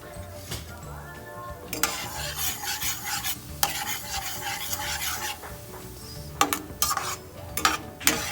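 Chicken in Sprite and oyster sauce sizzles in a pan while being stirred, with steady frying hiss, repeated scraping strokes of a utensil and a few sharper clinks near the end, close and continuous.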